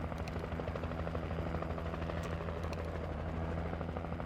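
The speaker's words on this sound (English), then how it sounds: "Come on, helicopter." A helicopter in the video game Alan Wake drones steadily, its rotor thumping in a continuous, loud, even chop with a low engine hum throughout and no talk.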